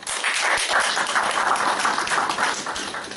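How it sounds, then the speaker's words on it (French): Debate-hall audience applauding steadily and loudly for about three seconds, a dense unbroken wash of clapping heard alone. "je vous prie, d'applaudir très fort pour ce reportage"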